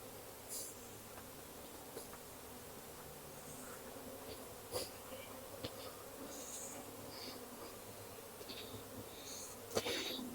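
Honey bees hum softly and steadily from an open hive frame full of brood during nuc making, a faint continuous drone with a few louder passing buzzes close by.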